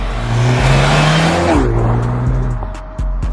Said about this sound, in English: this engine pulls like an absolute freight train